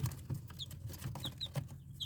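Large Australorp roosters and hens cluck softly in a barnyard, with a few short higher chirps scattered over a low, steady background murmur.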